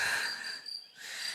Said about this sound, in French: On entend les petits grillons, ça c'est cool.